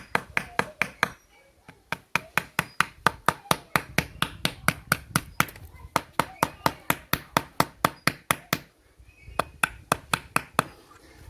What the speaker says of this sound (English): just knock the nail through